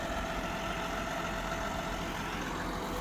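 A Toyota vehicle with a 2.7 litre 2TR-FE engine, the same engine used in the Tacoma, idles steadily with an even low rumble and no speech over it.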